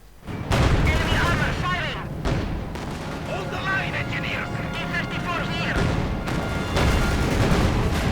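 Video game tank battle between Panzer IV and T-34 tanks, with booming gunfire and explosions rumbling over a steady din of battle noise, while a commentator talks continuously over the action.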